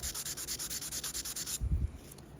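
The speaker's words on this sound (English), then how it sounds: "I'm gonna need to actually sand this until that all comes out" Sandpaper rubs back and forth on metal in steady, even strokes, about a dozen rhythmic rasps close up, then a few heavier scrapes before stopping.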